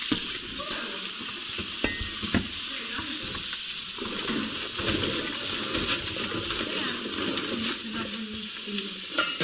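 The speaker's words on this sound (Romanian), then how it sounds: "Amestec așa." Food stirred in a frying pan in a home kitchen gives a steady sizzle with soft scraping and clinking of the utensil, continuous and close throughout, with no talking.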